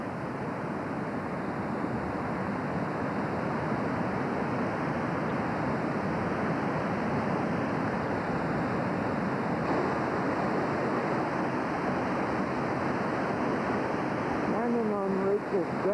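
Floodwater of the North Fork Wilson River in the 1996 flood, heard as a loud, steady, broadband rush that continues without a break, with faint wind noise on the microphone.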